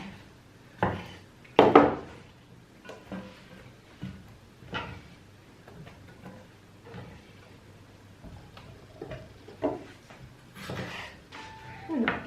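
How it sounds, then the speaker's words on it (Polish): A knife cuts vegetables into pieces on a board for a Turkish-Greek layered oven vegetable dish, giving irregular close wooden knocks and chops scattered among quieter kitchen clatter. "Tak jak widzicie, wszystko kroimy w takie kawałki."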